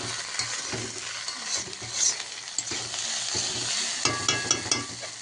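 Chowmein noodles stirred and fried in a pan, with a steady sizzle and repeated scraping strokes of a utensil against the pan, close and moderately loud, with no voices.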